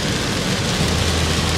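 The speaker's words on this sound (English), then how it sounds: "right now it's raining so hard." Heavy summer rain pours steadily outside a humid house, a dense, continuous wash of noise with a low rumble beneath, loud and unbroken throughout with no voices.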